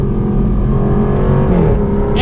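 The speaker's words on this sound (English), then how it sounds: "those upshifts, which sound ridiculous, and you get the gargles out of the exhaust, like, it kind of makes like popping sounds" Jaguar F-Type R, 2021 model, revving loud and close as it runs through rapid upshifts, its exhaust gargling and crackling with popping sounds throughout.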